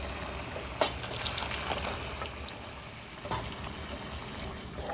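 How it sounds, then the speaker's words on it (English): Water is poured into a simmering prawn biryani gravy, making a soft, steady liquid trickle and fill with a couple of brief splashy clinks, faint and without talk. "Add a little bit of water so that the prawns cook in this gravy."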